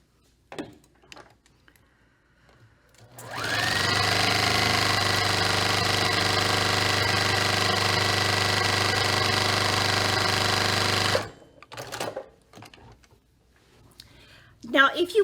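A sewing machine sewing quilt pieces for a Moonbeams quilt runs in one long, steady, droning stretch of about eight seconds, with quiet handling noises before and after.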